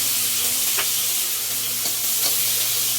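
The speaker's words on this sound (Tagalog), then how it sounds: "Lagyan natin ng toya." Steady sizzling of fried rice in a hot pan as soy sauce is poured in, a continuous close frying hiss with a few faint stirring scrapes and no talking.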